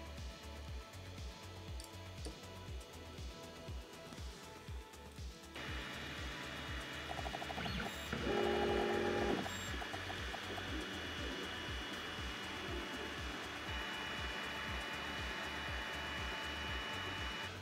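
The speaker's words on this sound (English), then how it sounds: "Let's print the Lucky Cat" A LOTMAXX SC-10 Shark 3D printer runs a print job with a steady rhythmic stepper-motor whir and pulsing hum, growing slightly louder midway, with a brief higher whine partway through and no talking.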